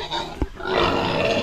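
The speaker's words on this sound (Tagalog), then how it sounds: "Ang laki na ng baboy ni Mamo." Large farm pigs grunting and squealing up close, a harsh continuous vocal noise that swells louder after a brief thump.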